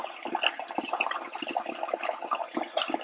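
Running water from a tap rinsing crappie fish fillets, a close steady splash and trickle with small spattering bursts throughout.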